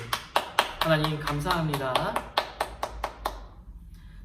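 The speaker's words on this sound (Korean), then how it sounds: "하나님께 한번 영광의 박수 올려드릴까요? 자, 박수!" A children's Sunday worship congregation clapping together in a steady rhythmic beat at the close of a service, with a voice speaking over the claps until they stop.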